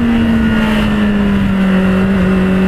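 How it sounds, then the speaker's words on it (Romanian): Motorcycle engine revving hard and steadily around 7000 rpm, a loud, continuous high-pitched wail held close to the microphone without any talk. "Uită-te cum urlă motorul la 7000."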